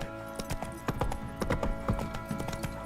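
Horse hooves clip-clop at a steady trot in The Witcher 3, loud and close with repeated sharp hoof strikes over a busy background of ambient game sound and music.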